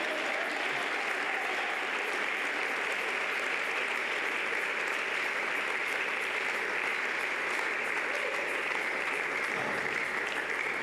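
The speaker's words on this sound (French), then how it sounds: "Acclame comme si c'était la dernière fois" A church congregation claps and cheers in a dense, continuous wash of applause that holds steady at a moderate distance from start to finish.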